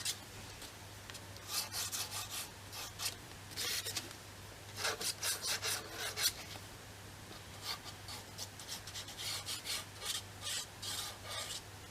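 Paper edges being distressed for a scrapbook album, heard as close, dry rasping strokes in repeated bursts with short pauses over a faint steady hum.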